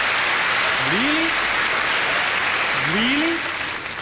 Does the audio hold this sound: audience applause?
yes